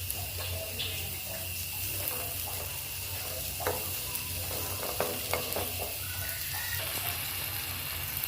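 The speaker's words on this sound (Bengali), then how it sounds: "এখন সবগুলা একসাথে মিশিয়ে নেব ভালো করে।" Boiled chickpeas stirred together with a filling mixture in a pan, a continuous sizzle with intermittent scraping and tapping of a spatula, close up and without speech.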